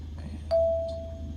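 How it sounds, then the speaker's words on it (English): A VATSIM notification chime sounds once in a Cessna 152 flight simulator session, a single clear ding with a long sustained tone over steady low engine hum. "And there is a VATSIM notification."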